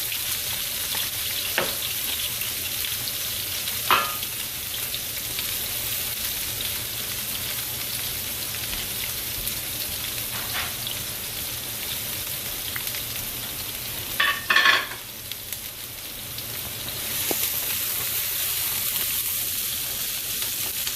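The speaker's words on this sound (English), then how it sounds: "I'm going to saute my peppers and onions first." Peppers and onions sauté in a hot pan, a long steady sizzle with occasional sharp clinks and stirring scrapes and a louder burst of clatter near the middle; no one speaks.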